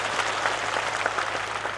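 Sustained crowd applause at a political rally held by a state Congress party leader, a dense steady wash of many hands clapping close and loud throughout, with no speech over it.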